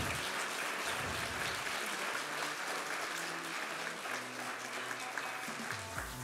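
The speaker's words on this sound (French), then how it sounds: "On peut les applaudir bien fort." Sustained applause from a group in a gym after a basketball training drill, dense clapping with scattered voices mixed in, fairly faint and steady throughout.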